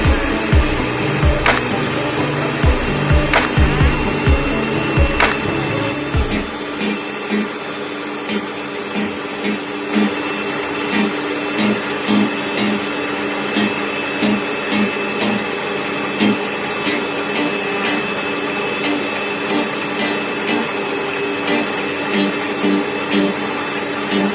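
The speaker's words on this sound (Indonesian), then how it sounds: "Oke, sudah tercampur rata, kita matikan mixernya." Electric hand mixer whirring steadily as it beats churros batter in a home kitchen, a loud continuous motor drone; bowl knocks and rattles during the first several seconds, then the tone evens out until the end.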